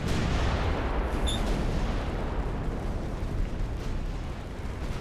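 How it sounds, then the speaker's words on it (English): Naval guns firing armor-piercing rounds at pocket battleships in the Ultimate Admiral Dreadnoughts game make a dense, continuous, booming rumble. Overlapping blasts merge into a loud barrage with no talk. "we should be able to tear him up with armor-piercing 2-inch guns"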